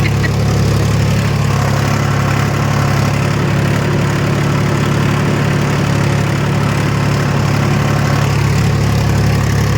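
A tractor engine runs steadily at idle nearby in a muddy monsoon field, a constant low rumbling drone with slight vibration and no pauses.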